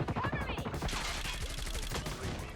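Gunfire from the mobile shooter game Call of Duty Mobile, played on a REDMAGIC 9 Pro phone: dense rapid shots rattling continuously with game sounds, mixed with talk.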